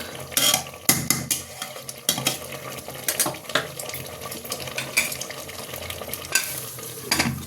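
A spoon stirs mutton curry in a cooking pot, scraping and sizzling loudly and close up with irregular strokes, rhythmic clanks against the metal, and a constant frying hiss underneath.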